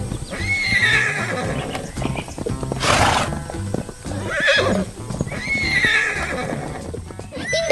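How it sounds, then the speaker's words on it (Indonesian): Animated horses gallop across a green field with rapid clip-clop hooves and several loud neighs and whinnies spread across the scene. "kuda-kuda yang lucu sedang bermain di tengah lapangan hijau, berlarian dengan ceria di hari yang cerah"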